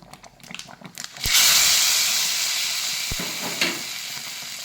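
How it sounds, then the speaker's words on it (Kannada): Spices for tempering hit hot coconut oil and burst into a loud, close sizzle that holds steady and slowly fades, with a couple of sharp clicks of a spoon or pan near the start and no talk. "ಈಗ ಒಂದು ಒಗ್ಗರಣೆ ಕೊಡಿ"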